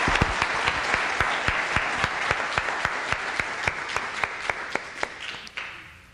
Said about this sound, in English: I hope you'll all give a round of applause one more time to our friend John Fund.